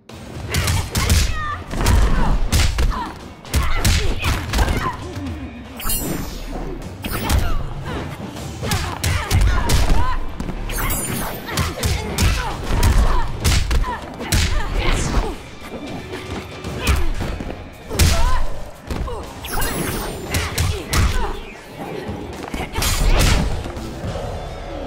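Mortal Kombat X fighting-game combat, a dense run of loud smashes, thwacks and thuds that hit in rapid, irregular bursts over a busy game soundtrack, with occasional short voice shouts.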